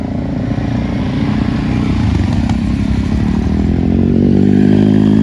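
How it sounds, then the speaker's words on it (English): A couple of motorcycles speed along Mulholland Highway: a loud, close engine drone with rattling texture that swells steadily as they pass, with no voices over it. "Couple bikes just flying through here."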